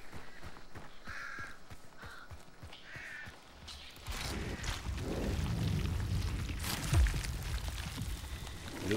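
Crows caw twice in a video game, a few rough calls in the first seconds, before a surge of rushing, churning game noise and deep rumbling takes over.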